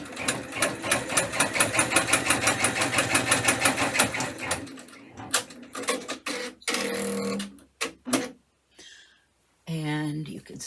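An embroidery machine stitches a placement line on fabric, its rapid even needle rhythm running steadily for several seconds before stopping, followed by scattered clicks and someone talking nearby.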